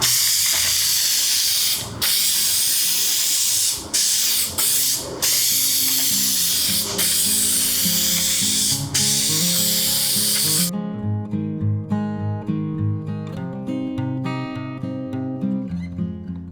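Loud hissing aerosol spray adhesive in repeated bursts for about ten seconds while fixing a car headliner, then it stops and quiet background music carries on alone.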